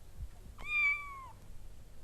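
A kitten lets out a single clear, rising then level meow, close and fairly quiet against a hushed, still background.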